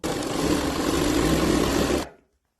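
A simple sewing machine stitches a line on a suit, running steadily and loudly for about two seconds before stopping abruptly into silence.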